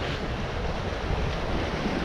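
Wind rushes over open sea while sailing off Corsica, a steady loud broadband roar with wave wash beneath, continuous and close, with no voices.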